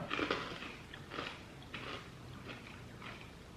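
Freeze-dried Skittles Pop'd candy crunches between the teeth in about five crisp bites spaced through the stretch, each a close, brittle crackle with quieter chewing in between.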